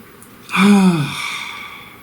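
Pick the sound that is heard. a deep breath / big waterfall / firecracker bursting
a deep breath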